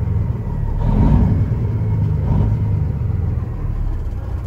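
The engine of a 2014 Peterbilt 389 glider daycab runs with a steady, heavy low rumble close by, swelling in two brief revs before settling, and no one talks over it.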